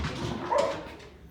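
Dogs give a short, close outburst of barking and whimpering yips indoors, a single brief burst that peaks and then fades.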